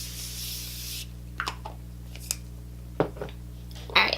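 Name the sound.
Morphe Continuous Setting Mist sprayed on the face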